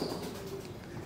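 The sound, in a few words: pigeons cooing in loft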